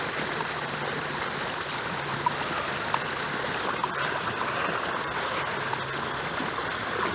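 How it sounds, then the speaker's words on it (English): A remote control toy dolphin swims through water, its motion producing a steady, continuous watery trickle and splashing with a few faint clicks, close and fairly loud with no voices. "So I'm gonna go ahead and use this remote to run the dolphin."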